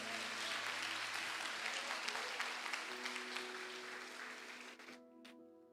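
A church congregation applauds in praise during a service, a steady wash of many hands that fades toward the end, with sustained tones underneath and a brief quiet tail.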